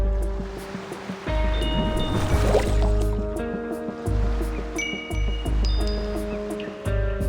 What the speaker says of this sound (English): The waves create a chiming sound, like bells.